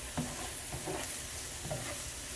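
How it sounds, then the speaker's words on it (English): Onion sautéing in plenty of oil, a dense continuous sizzle with a few soft stirring bumps, close and steady throughout. "And I'll probably be sauteing this for 2 or 3 minutes."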